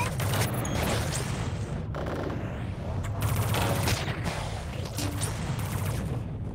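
Rapid bursts of gunfire from the VR shooter Space Pirate VR, dense and continuous with booming impacts throughout, loud and close.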